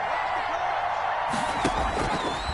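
Stadium crowd noise from an American football video game on PS4, a steady broad roar that swells louder in the second half with whoops and whistles rising out of it.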